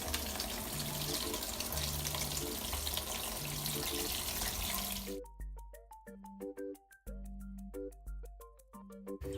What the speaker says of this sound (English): I'm going to start some water flowing through the valve and spin